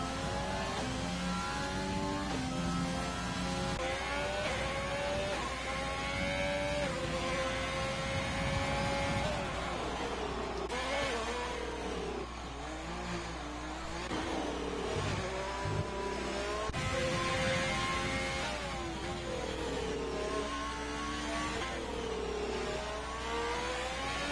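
Formula One race car engine screaming through a qualifying hot lap around Monte Carlo in a racing video game, a steady high-pitched whine that rises and drops with each gear change and corner, continuous and loud throughout.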